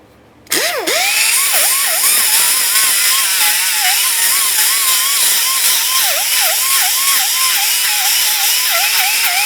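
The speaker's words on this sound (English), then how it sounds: "Now that I've got this sanded down as good as I can" A power sander grinds rust off a rotted brake hub on a 2006-10 Ford Explorer, starting abruptly and running loud and steady with a whining pitch that dips repeatedly as it bears against the metal.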